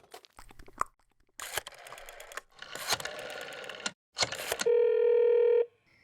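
A telephone is handled and dialed: clicks and rustling handset noises, a quick run of keypad tones, then a long steady electronic tone lasting about a second before cutting off.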